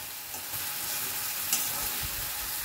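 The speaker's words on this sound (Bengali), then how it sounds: "অনবরত কিন্তু নেড়ে নেড়ে মশলাটাকে ভালো করে কষিয়ে নেব" Masala spices fry in oil while being stirred without pause, making a steady, dense sizzle with soft scraping that stays even and close throughout, no voices over it.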